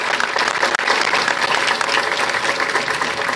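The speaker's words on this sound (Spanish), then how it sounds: "Pido un aplauso para ella, para su equipo que ha resultado electo en esta ocasión" Audience at a political address after election results breaks into sustained, dense applause, steady and fairly loud with no speech over it.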